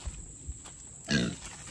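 Pigs on a farm give a few low, short grunts at moderate distance amid quiet outdoor background noise.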